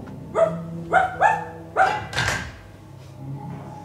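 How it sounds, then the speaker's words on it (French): Dog barking close by, four or five sharp barks in quick succession with a final louder burst, then quieting; no speech. "Rapidement, le chien Wolf arrive."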